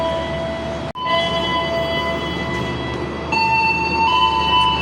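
The Prambanan Express commuter train on the Indonesian rail line rumbles along steadily with a sustained metallic whine and tonal ringing, close and continuous, briefly cut at one point before resuming louder.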